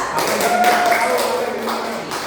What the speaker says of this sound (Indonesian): tepuk tangan untuk Aulia